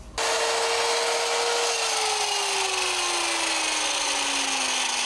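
A power saw cuts wood trim pieces for a fridge surround in a truck camper, with a loud continuous rasping whine whose pitch slowly drops as the blade bites through the wood. No voices are heard.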